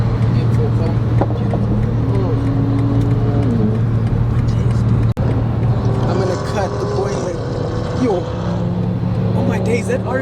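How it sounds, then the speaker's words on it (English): An Audi RS3 five-cylinder engine revs amid a crowd at a large BMW car meet in Johannesburg, with steady loud engine drone, other cars nearby, and people talking throughout. "that RS3 sounds so nice"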